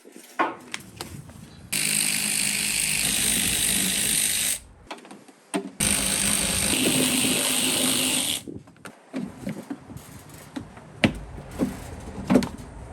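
Small 10 mm nuts spun off a BMW 550i Gran Turismo F07 air suspension pump, with two long steady whirring bursts from a power ratchet and scattered clicks and clanks of tools and parts between them.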